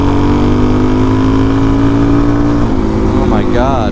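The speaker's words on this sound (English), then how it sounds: "That's a slow roll on the throttle to wide open." A motorcycle fitted with an FCR39 carburetor holds a loud, steady engine note, then climbs as the throttle is rolled slowly to wide open, close and strong, with a brief voice near the end.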